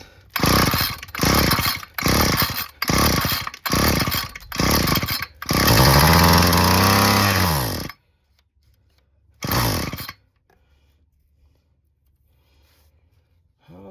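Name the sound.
small two-stroke engine running after carburetor replacement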